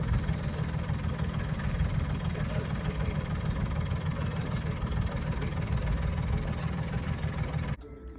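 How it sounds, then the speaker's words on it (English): A yacht's engine idles in neutral while the boat holds position near a fuel point, a steady low rumble running continuously close by and cutting down sharply just before the end. "I'm going to have to tread water with my engine in neutral"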